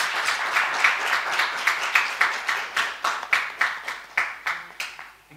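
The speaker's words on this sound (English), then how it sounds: "Can we have a huge round of applause?" An audience at an agile conference claps for presenters being felicitated, steady applause that thins into separate, evenly spaced claps as it winds down.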